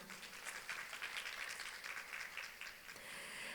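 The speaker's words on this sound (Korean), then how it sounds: "여러분 박수 부탁드리겠습니다." A conference audience applauds after an academic presentation at an island forum, faint distant clapping heard steadily throughout at low level.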